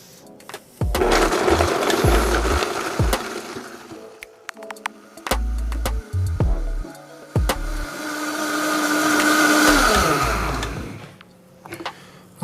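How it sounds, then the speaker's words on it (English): A blender whirs a dessert mixture until smooth, running in loud bursts with stops and restarts, then a long sustained whine that rises and falls near the end. "We're gonna pop the top on and really just blend this sucker until it's nice and smooth."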